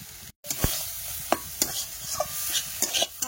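Red amaranth greens stir-fried in a pan for a river prawn dish: a continuous sizzle broken by repeated sharp spatula scrapes and clacks at irregular intervals, close up with no voices.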